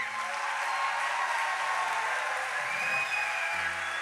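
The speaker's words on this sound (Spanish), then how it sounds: "Esos gritos de victoria son para el Señor." Church congregation at a Saturday homily applauding and cheering in celebration, a dense, steady wash of clapping and shouts with the crowd sounding close and lively throughout.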